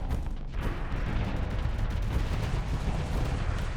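Enemy ship weapons firing in the space combat game Starsector, a dense, continuous barrage of booming gunfire and explosions, loud and close, with no pause across the stretch.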